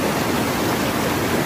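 Clear freshwater rapids rush at Carnaubinha beach in Paracuru, Ceará, a steady, loud, broadband roar of flowing water without any pauses.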